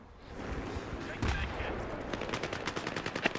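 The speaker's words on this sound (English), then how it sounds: "We were both shooting at him and he still got us." Battlefield 3 gunfire crackles through a dense game soundscape, with rapid bursts and a heavier volley partway through, followed by a quick rattling string of shots.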